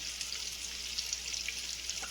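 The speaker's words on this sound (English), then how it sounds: "So basically, we're going to sear them" Meatballs sear in a hot pan with a bright, steady hiss and fine crackling spatter, fairly quiet and unbroken for the whole stretch, with no voices.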